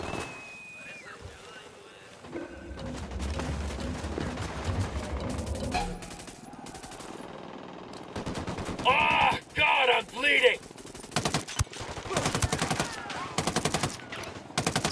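Gunfire in the video game Ghost Recon Wildlands, bursts and single shots cracking out in the middle section, mixed with game ambience and background game sounds.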